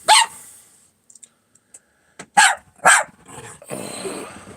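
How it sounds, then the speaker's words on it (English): A few sharp dog barks, spaced apart, with quiet gaps between and a burst of rustling noise at the end. "What are you barking at?"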